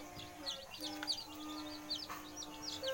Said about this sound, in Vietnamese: Gà con gà rừng nhá.